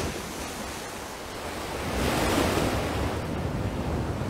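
Ocean surf at Cobblers Cove at daybreak makes a steady broad wash that swells louder about halfway through, with wind rushing across the microphone and no voices.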